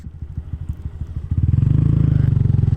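A Honda Grom motorcycle ridden on city streets, its small engine thumping in a steady pulsing rhythm that builds into a louder, sustained drone as it accelerates, close and without talk.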